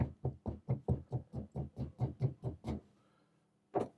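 A cake tin is tapped repeatedly on a kitchen counter to knock out bubbles, giving about a dozen quick, evenly spaced knocks, then a pause and one final knock.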